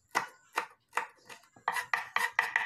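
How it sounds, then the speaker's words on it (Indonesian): Seven red bird's eye chilies being thinly sliced with a knife on a cutting board, heard as close, crisp chopping taps, first spaced apart and then in a faster steady series. "Lalu iris-iris tipis 7 buah rawit merah."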